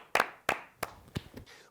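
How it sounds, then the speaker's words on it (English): Several sharp hand claps ring out at an uneven slow rhythm, five in quick succession, fading slightly toward the end, close by with no talking over them. "Why are we clapping?"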